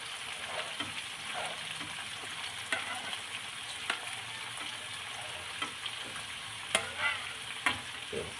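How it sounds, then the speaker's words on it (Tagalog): Beef sizzles and fries in a pan for bistek, a steady crackling hiss with occasional stirring scrapes and small pops. "So, gisa-gisa po natin ang ating karne."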